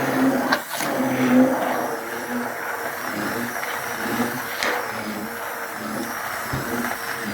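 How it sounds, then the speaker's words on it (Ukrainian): A kitchen blender purees liver pâté, whirring continuously at close range, its motor droning with slight shifts in pitch as it churns. "І тепер це все добре блендером збиваємо."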